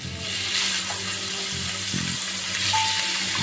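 Chicken pieces sauté with black pepper powder in hot oil flavoured with asafoetida, giving a steady, close sizzling hiss with faint stirring scrapes throughout.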